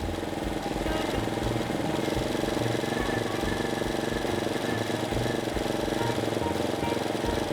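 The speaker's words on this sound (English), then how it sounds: "I'm going to give a little twist of the throttle." A Yamaha TT250 motorcycle engine runs loud and close as the throttle is twisted and held so the revs creep up. The steady, rough mechanical drone continues without a break.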